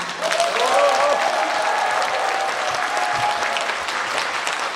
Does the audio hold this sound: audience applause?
yes